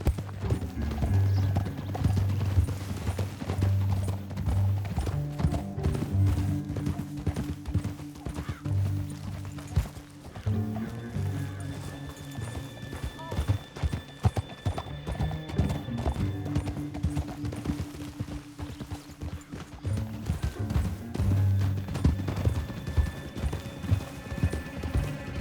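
Horse hooves gallop steadily in Red Dead Redemption 2, a fast rhythmic clip-clop running the whole stretch over a low droning music bed, with an occasional whinny.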